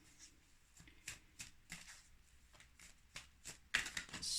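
Oracle cards are shuffled by hand in quiet, soft papery riffles and taps, repeated in a loose, uneven rhythm, ending with a louder flurry.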